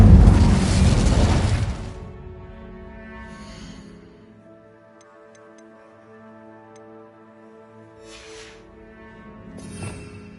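In Hogwarts Legacy, the Incendio fire spell goes off with a loud roaring whoosh of flame that fades out. Soft musical tones and faint ticking follow, then shorter magical bursts come near the end.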